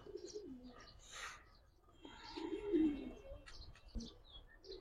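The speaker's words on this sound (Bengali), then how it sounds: "এগুলো অরিজিনাল পাঙ্কি ফ্যাটের কবুতর ভাই এগুলো একদম রেডিমেড কবুতর" Pigeons in a loft coo softly in short, quiet bursts mixed with a few faint chirps. The collection includes fantail and Giribaz high-flyer breeds, and the sounds are low and close against a hushed background.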